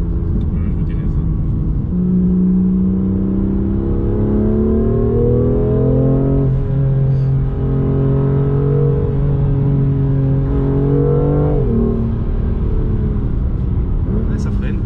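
A BMW M2 Competition with a 410 hp engine and Akrapovic exhaust pulls hard under acceleration, its engine note climbing steadily through a gear change. The loud cabin drone is continuous and close, with voices heard faintly beneath it.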